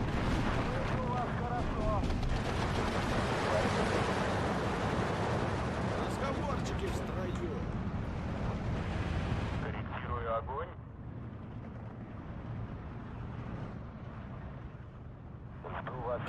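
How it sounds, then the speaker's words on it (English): Artillery barrage in the WWII strategy game Steel Division 2 rumbles continuously with overlapping booms and crackling gunfire, loud and dense at first, then thinning to quieter distant blasts. "Get our artillery battery going once again."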